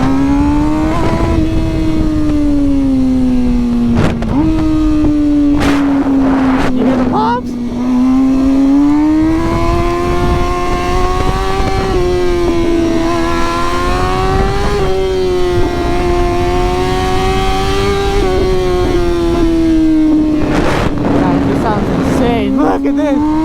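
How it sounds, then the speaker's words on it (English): Car fitted with a new aftermarket exhaust, loud and close, revving through a long wavering drone with sharp pops and crackles scattered throughout, plus a few short dips and surges in engine speed. "this exhaust, you hear that? It pops when it heats up too."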